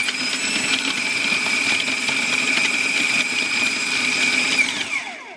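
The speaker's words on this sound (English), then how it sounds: "I'm just going to start my food processor, just a plain food processor" A plain food processor grinds almonds with a loud, steady whirring drone that holds for about five seconds, then winds down at the end, with no talking.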